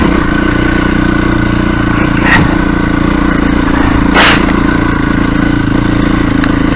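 Off-road motorcycle powering away over slippery rocks in third gear on a steady throttle, its engine a constant close, loud drone with a couple of brief louder bursts.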